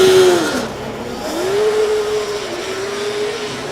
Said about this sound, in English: So that's wheel spin not once but twice actually.